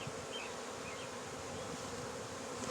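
A honeybee swarm buzzes and fans its wings, a dense, steady drone that holds close and even throughout with no pauses and no voices.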